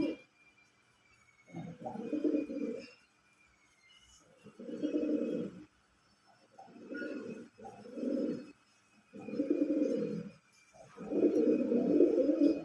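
A pair of pigeons released on the ground coo in low, throaty bursts, six separate phrases spaced by short pauses, close and clear with quiet background.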